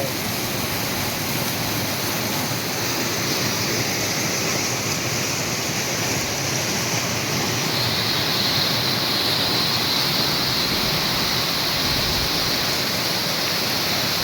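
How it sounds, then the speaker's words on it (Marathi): Water pours over Phadke weir at Naneghat in a steady, loud, unbroken roar of falling water that holds constant throughout, close by and with no voices. "जबरदस्त असं पाणी पडतं वाव"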